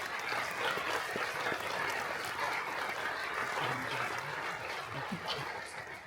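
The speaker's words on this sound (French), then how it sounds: "Je crois qu'on peut applaudir." A crowd claps steadily at a distance at the mayor's New Year address in Vence, France, a soft, even patter of applause that keeps going throughout.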